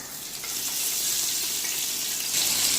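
Onions with cinnamon, cardamom and cloves sizzling in hot oil for a vegetable biryani, a steady bright hiss that swells slightly near the end, with no talk.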